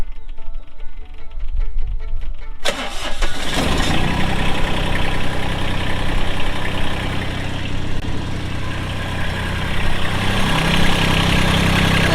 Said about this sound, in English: Now you just start your tractor up, check for leaks again